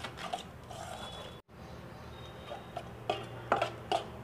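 Tandoori masala being mixed into curd in a bowl, with soft scraping and irregular light clinks of a spoon against the bowl, quiet and close, with no talking.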